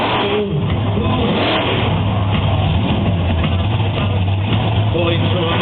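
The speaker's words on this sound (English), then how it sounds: "We've got heavy engines, methanol," Heavy methanol-fuelled monster truck engines at Santa Pod roar continuously and loudly, with a dense, sustained mechanical rumble and a commentator's voice talking over the noise.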